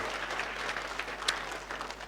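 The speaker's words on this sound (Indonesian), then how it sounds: "ya boleh beri tepuk tangan, puji Tuhan." A church congregation claps together in a steady, moderately distant round of applause with a faint reverberant hall tone.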